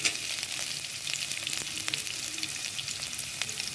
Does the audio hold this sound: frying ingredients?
yes